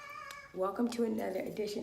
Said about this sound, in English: That's my cat, that is.